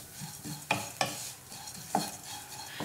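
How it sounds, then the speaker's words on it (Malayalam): White flattened rice roasting in ghee in a pan, stirred with a few distinct scraping strokes over a soft, steady sizzle, close and fairly quiet. "ഇനി ഇത് നമുക്കൊന്ന് നന്നായിട്ട് തന്നെ ഒന്ന് വറുത്തെടുക്കാം"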